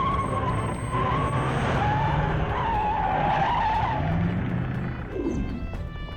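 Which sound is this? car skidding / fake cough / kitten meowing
car skidding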